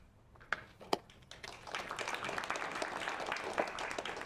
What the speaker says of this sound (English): They clap every time